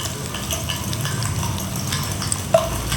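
Dry red chillies and curry leaves fry in a hot oil tempering for tomato dal, stirred steadily in the pan. A continuous close sizzle runs under scraping strokes, with one sharper clink of the utensil near the end.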